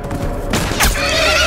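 A horse whinnies loudly in The Last of Us Part II, a high rising neigh followed by snorting, with a game-like ambient backdrop and hoof noises underneath.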